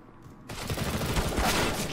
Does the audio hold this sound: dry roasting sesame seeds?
no